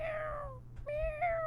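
A man imitates a cat in an office with a few drawn-out meows: one long falling call, a brief pause, then two more tied together, close and clear over a low background hum.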